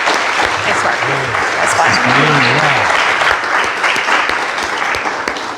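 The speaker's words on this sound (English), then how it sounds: "let's give you one more round of applause" A forum audience claps steadily for the candidates in a Wisconsin Assembly District 13 Democratic primary event, dense and sustained across the room, while a voice speaks briefly over the applause.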